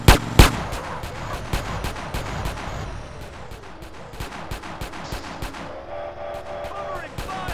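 Gunfire in GTA San Andreas during a mission robbing a military base: a string of sharp, separate shots crack close by, spaced irregularly over a low rumbling game backdrop, with a voice heard briefly.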